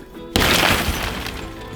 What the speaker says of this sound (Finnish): Ikkunoiden rikkominen on yllättävänkin rentouttavaa hommaa